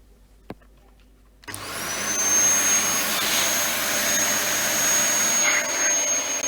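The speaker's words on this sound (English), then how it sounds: "Let's plug it in and go for a vacuum." A Dyson DC33 vacuum cleaner switches on after a brief click and near-silence, its motor spinning up into a loud, steady, high-pitched whooshing roar that holds for several seconds.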